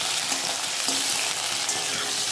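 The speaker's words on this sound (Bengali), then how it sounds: "সবজিগুলোকে হালকা তেলে ভেজে নিচ্ছি।" Vegetables for Bengali shukto fry in hot oil in a kadai, giving a dense, even sizzle close by with faint stirring, no voices.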